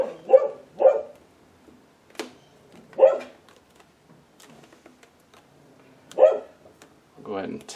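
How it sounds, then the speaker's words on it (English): A dog barks in short, sharp bursts at irregular intervals, a few separate woofs spaced a couple of seconds apart with quiet gaps and faint ticking between them. "hopefully the dog will stop barking."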